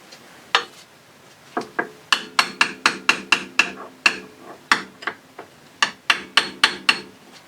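Hammer tapping a rear bushing into place on a Polaris ATV, around twenty sharp metallic knocks, first scattered, then in quick steady runs, close and clear with no talking.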